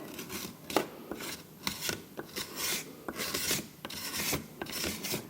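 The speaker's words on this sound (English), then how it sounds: "So you can use a paint scraper or a piece of aluminium." A paint scraper scrapes across a plaster mould in a ceramics workshop, making a series of rasping strokes in an uneven rhythm, close and fairly quiet.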